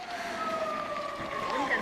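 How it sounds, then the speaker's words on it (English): Police siren wailing on a street between Yokohama and Tokyo, a steady high tone sliding slowly downward, moderately loud over constant traffic and city background noise. "we got a police siren here"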